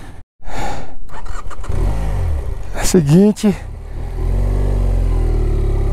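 A heavily loaded motorcycle engine runs steadily and close by on a road near the active Sabancaya volcano, with someone talking over it partway through.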